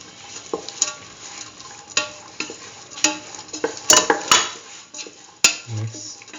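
Spoon stirring corn into coconut milk rice in a pot, with irregular metallic scrapes and clinks against the pan over a soft sizzle, close and fairly loud.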